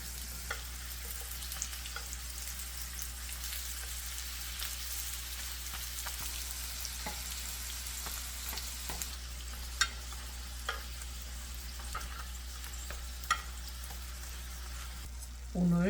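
Meat and chive dumplings frying in a generous pool of oil, a soft, continuous sizzle with scattered small pops and crackles, steady and fairly quiet throughout.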